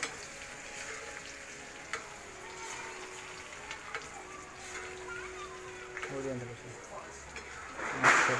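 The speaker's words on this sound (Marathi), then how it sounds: "खोबरा, शेंगदाणे, चण्याची डाळ, मनुका, मिरच्या फ्राय होत आहेत" Coconut, peanuts, chana dal, raisins and green chillies fry in a wok of hot oil for pohe chivda, giving a steady soft sizzle with occasional stirring scrapes and a louder clatter near the end.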